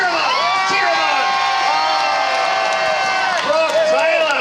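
A crowd cheering and shouting at the finish of a jet ski stunt race, a continuous loud roar of many voices with rising whoops near the end.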